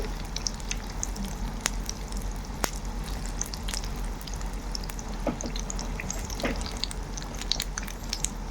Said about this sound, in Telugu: ఇలా మంచిగా సిమ్లో బాగా కాగాలన్నమాట.